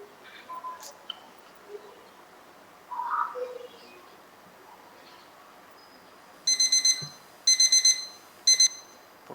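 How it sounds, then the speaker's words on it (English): A digital timer alarm beeps in three sharp, rapid bursts of high electronic tones near the end, following faint scattered room noises and a brief murmur. "Put off that timer."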